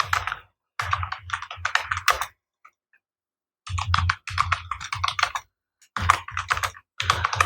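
Hindi text is typed on a computer keyboard in quick, clattering bursts of keystrokes, close and crisp, separated by short pauses.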